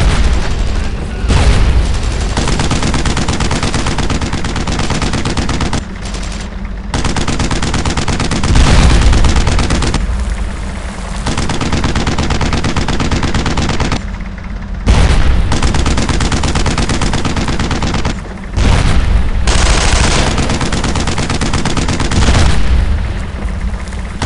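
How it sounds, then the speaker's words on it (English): Dense suppressing gunfire in the World War II shooter Brothers in Arms: Road to Hill 30, loud sustained rifle and machine-gun bursts with booming shots, broken by a few brief lulls. "I need suppressing fire."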